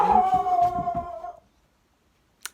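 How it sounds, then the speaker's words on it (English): A single drawn-out dog howl, loud and close, fading out after about a second, followed by silence and a brief faint click. "They won't stop barking ever since I pressed record."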